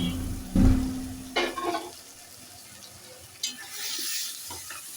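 Beans and potatoes are stirred into a frying masala for a snakehead fish curry: a few scraping spoon strokes against the pan over a soft sizzle, close by.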